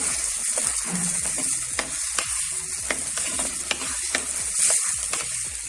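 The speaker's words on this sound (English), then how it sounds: "Now, add the well cleaned, deveined prawns and just cook it for 30 seconds." Cleaned, deveined prawns sizzle steadily in thickened curry masala in a mud pot, with a constant frying hiss and scattered stirring clicks and scrapes close by.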